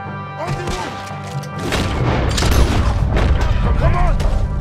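Heavy booms and crashing impacts of cannon fire in Red Dead Redemption 2, a dense, loud barrage that builds and rumbles on with overlapping blasts and clatter, with voices shouting amid the din.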